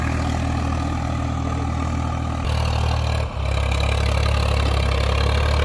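A Swaraj 855 tractor engine idles steadily and loudly up close in a farm field, a deep low rumble with a brief dip before settling back into a constant drone.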